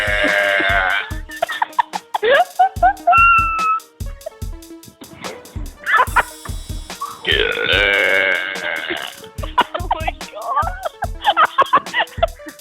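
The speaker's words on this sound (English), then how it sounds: "Get a burp." A girl burps several times in a row, loud and close, with other people laughing and talking in short bursts between the burps.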